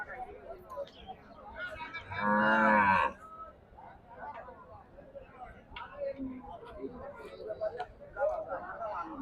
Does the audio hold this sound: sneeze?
no